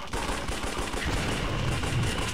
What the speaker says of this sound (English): It's a Gatling gun.